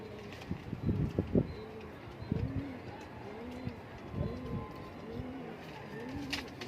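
Pigeons in a loft give soft, repeated cooing calls at close range, rising and falling in a steady rhythm with light rustling between them.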